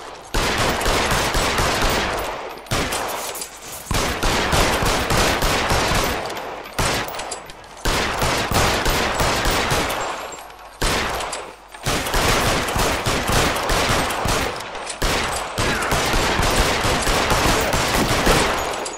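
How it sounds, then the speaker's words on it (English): Sustained bursts of rapid gunfire in L.A. Noire, loud, dense volleys of shots repeating in long stretches separated by brief pauses, with no talking over them. "3 quick shots."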